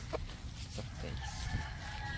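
Chickens cluck faintly in a noisy outdoor setting, with a soft, drawn-out rooster-like call near the end.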